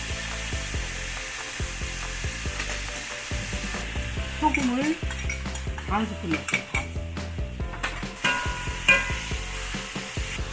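Spam and shredded potatoes stir-fry in about five spoons of oil in a hot pan, giving a steady close sizzle broken by clinks of a spoon stirring against the pan, with a voice speaking briefly over it.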